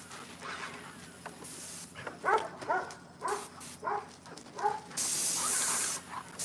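Sealant is sprayed over a rear deck, a steady close hiss lasting over a second near the end, with a dog barking in short bursts before it.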